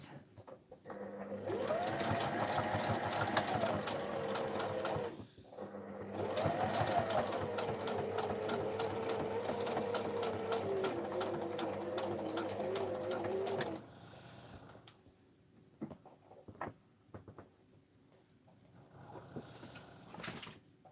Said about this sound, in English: Just sewing this in real quick.